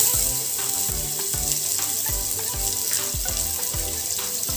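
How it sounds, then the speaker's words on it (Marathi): Finely chopped onion fries in hot oil in a pan, giving a loud, dense, continuous sizzle with faint regular knocks or stirs running beneath it. "हा कांदा आपल्याला सोनेरी रंगाचा होईपर्यंत तेलावरती परतून घ्यायचा आहे"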